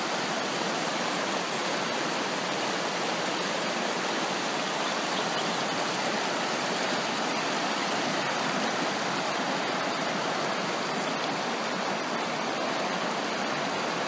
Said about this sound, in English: There's still some decent flow in Cheshire Creek.